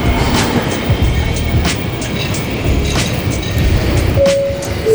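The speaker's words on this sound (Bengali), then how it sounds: "আর এই পাশটাতে আরেকটা ট্রেন আসছে, এই ট্রেনটা এখন চলে যাচ্ছে।" A train arrives and departs at a Malaysian railway station, with a low rumble of cars over the tracks and a short tonal squeal near the end, heard amid loud platform ambience.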